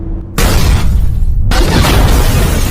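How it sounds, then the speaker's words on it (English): A car is deliberately rammed into another car in a dramatic film scene, heard as a sudden loud broadband crash and boom that holds as sustained crunching noise for a couple of seconds. "someone working for Big Bro deliberately crashes into them"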